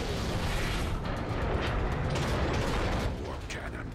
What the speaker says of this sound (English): War cannons.